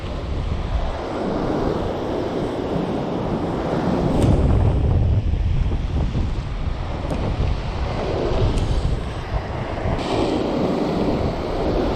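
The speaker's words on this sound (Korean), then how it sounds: "바람이 불어가지고 내 날아갈지 모르겠네" Strong seaside wind on the East Sea coast buffeting the microphone in loud, gusty roaring surges, with waves washing in the background and no speech.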